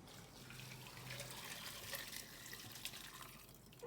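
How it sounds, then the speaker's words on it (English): Wonton soup broth pours through a strainer as a soft, continuous liquid trickle and splash, faint and steady, with no voices. "I'm gonna strain it in here."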